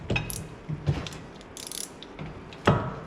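Brake caliper piston tool on a 2015 Dodge Dart, turned by hand, giving several short ratcheting, mechanical clicks and scrapes spaced irregularly, fairly close, with one louder final clunk.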